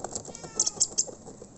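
A stray cat meows several times in quick succession, a few sharp mid-distance calls over quiet outdoor background.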